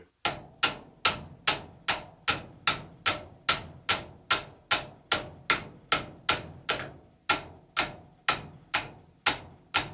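Light, sharp metallic taps on a part of a vintage RCBS A2 reloading press during disassembly, about twenty crisp strikes in a fairly even rhythm of roughly two per second, close and alone.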